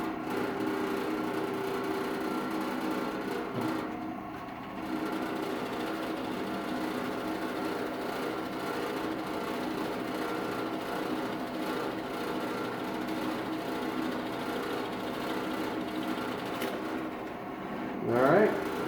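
A drill press runs steadily while drilling, giving a constant mechanical hum and whine that holds level for the whole stretch, with a faint rise and brief handling noise near the end.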